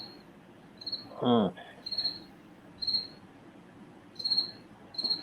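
Crickets chirp in short, bright bursts that repeat roughly every second at moderate loudness, with a single brief spoken word cutting in near the start.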